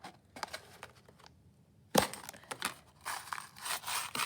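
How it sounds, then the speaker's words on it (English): A single sharp crunch of a hole punch biting through paper for a paper puppet, preceded and followed by soft paper rustling and handling, close up and without talking. "I can punch a hole, and I'll punch a hole here"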